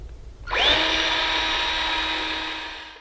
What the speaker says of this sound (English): Now I'm just going to drill a pilot hole